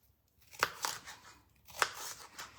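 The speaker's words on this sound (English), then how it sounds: "I'm going to cut some pepper pieces to go on the pizza" Knife chopping pepper pieces for pizza on a board, a few sharp close cuts with short pauses between them.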